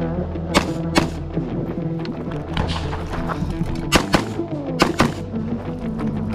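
Rifle shots from a Frontline 16 fitted with a Cox Arms Battle Brake muzzle brake, several sharp loud cracks spaced irregularly over a few seconds, each with a booming, ringing blast.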